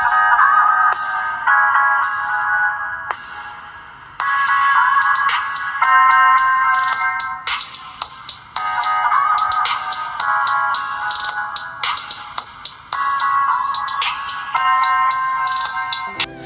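An LG Aristo 2 phone's bottom speaker plays a ringtone loudly, a bright, tinny electronic melody of repeated short phrases with brief pauses that runs throughout, with no talking.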